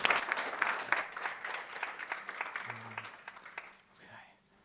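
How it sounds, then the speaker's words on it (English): A conference audience at a panel session on populism and politics applauds the panelists. The applause starts strong, thins out and fades over a few seconds, and then a voice begins speaking. "Maybe we'll give them a round of applause."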